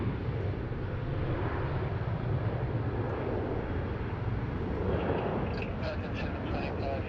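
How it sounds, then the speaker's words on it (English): A Qantas Boeing 737 takes off from runway 16 right at Sydney Airport, its jet engines making a broad, steady roar that holds throughout, with a voice talking over it. "Here we have the Qantas 737 now taking off, runway 16 right, heading to Adelaide."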